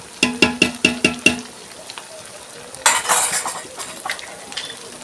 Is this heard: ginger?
yes